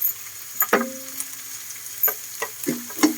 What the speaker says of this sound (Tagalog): lagay na natin ang sibuyas